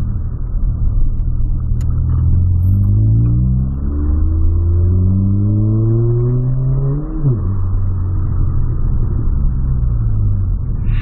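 A Volkswagen Polo engine revs hard and loud nearby, climbing through several rising sweeps before dropping back to a rumbling idle, with no talking over it.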